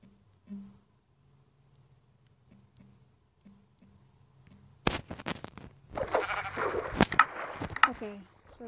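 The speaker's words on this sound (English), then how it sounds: "There's one more sheep over there." Minecraft PE sheep bleating: a couple of faint, short game bleats at the start, followed by louder clattering in-game sounds and a person talking over them toward the end.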